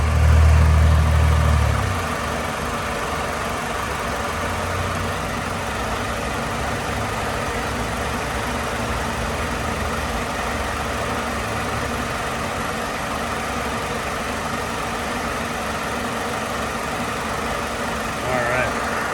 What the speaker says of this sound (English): Hold pause here for a second so you can listen to the engine.